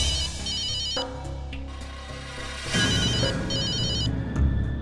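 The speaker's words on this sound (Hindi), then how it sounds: "पता नहीं ये सतीश बार बार क्यों फोन कर रहा है।" A telephone rings in a Hindi TV drama scene, bright repeated electronic trills in two bursts over a swelling musical score, loud and close.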